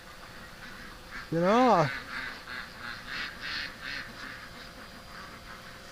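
Ducks quack in a backyard, one loud harmonic call near the start followed by a run of softer, evenly spaced quacks, with a man's brief speech over them.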